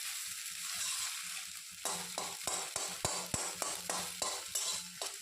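A cracked egg fries in a pan for dhaba-style egg tadka, starting as a soft sizzle, then a run of sharp rhythmic scrapes and taps as a spatula chops and breaks it up, close and crisp.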